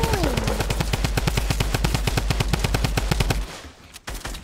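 Rapid automatic gunfire from Fortnite Battle Royale rattles in a loud, evenly spaced burst lasting about three seconds, then stops, followed by a single sharp crack.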